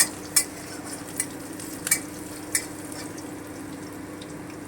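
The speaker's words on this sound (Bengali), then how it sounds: "রসুন কুচিটা দিয়ে দিলাম থেতো করে রাখাটা দিয়ে দিলাম একটু ভেজে নিচ্ছি হালকা করে" Minced and crushed garlic frying lightly in a pan while a mutton kosha is cooked, a soft steady sizzle with a few sharp clinks of a utensil against the pan and no talking.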